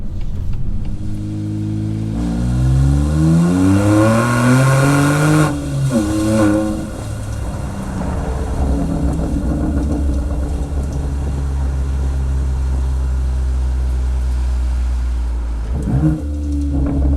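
A BMW M2 Competition with a Remus exhaust revs up and then drops off, followed by a steady rumbling exhaust burble on overrun, loud and close with no talking.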